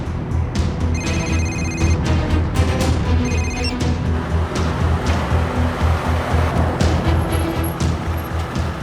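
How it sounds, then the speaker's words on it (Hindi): A mobile phone rings in a drama scene, its repeated electronic trills in short bursts standing out over a steady roaring background that sounds like surf or traffic. "बज रहा है, फोन बज रहा है।"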